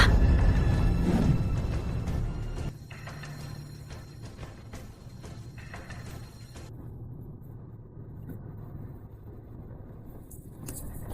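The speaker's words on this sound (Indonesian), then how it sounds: "Benar, itu mobil Raja Utara." The Northern King's car arrives with a loud, close engine rumble for the first couple of seconds, then settles into a quieter, steady low drone that carries on to the end.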